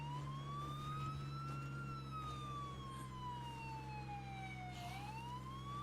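An ambulance siren in a zombie video game wails in a slow rising and falling sweep, steady and fairly loud, over a low engine hum for the whole stretch.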